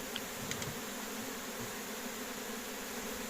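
Swarming honeybees hum in a steady, faint buzzing drone, with a few brief sharper sounds near the start.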